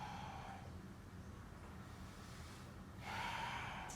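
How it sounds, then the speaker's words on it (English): Slow, deep yoga breaths drawn while holding a pose in a Surya Namaskar sequence, steady and airy with no talking and a fuller exhale toward the end. "we stay here for 5 breaths"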